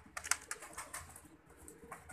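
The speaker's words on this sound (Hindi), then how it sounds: "और आपको पता है भजन, मैं सियालकोटी कबूतरों का दीवाना हूँ।" Soft, low coos of Sialkoti pigeons repeat gently over a quiet background, with a faint higher chirp near the start.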